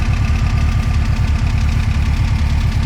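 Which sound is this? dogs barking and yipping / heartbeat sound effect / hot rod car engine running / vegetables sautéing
hot rod car engine running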